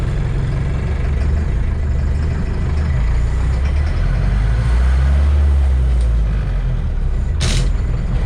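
A 1965 Toyota Bandeirante with Carraço body idles with a steady, heavy, shaking low rumble, close and continuous, with a brief hiss near the end.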